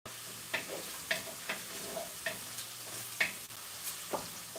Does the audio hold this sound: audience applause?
no